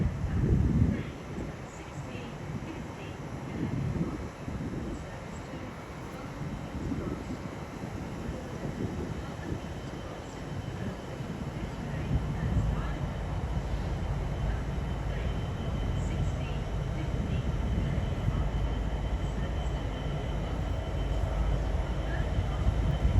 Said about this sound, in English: our next freight train of the day will be a GBRF 66 going from Tilbury to Wakefield Europort